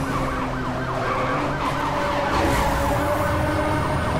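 Police siren wailing loudly and continuously in the Need for Speed racing game, rising and falling over steady engine and road noise with no voices.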